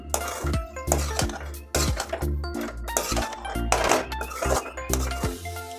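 A metal spoon clanks and scrapes against a pan while macaroni pasta is stirred with masala, rhythmic metallic knocks repeating loudly and close throughout.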